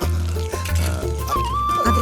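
Water poured from a container onto freshly planted vegetables in soil-filled beds, a short, gurgling liquid splash heard beneath a prominent background music track.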